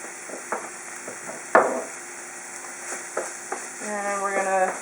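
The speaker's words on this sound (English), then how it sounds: "And we're going to stir that in" Crumbled saffron threads stirred into a sizzling paella pan, with soft sizzling under sharp scraping strokes of a spoon and one louder knock against the pan, close and alone.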